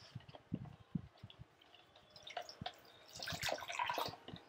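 Water poured over a new stone grinding mortar as it is scrubbed clean, with scattered drips and splashes that swell into a steadier, louder pour near the end.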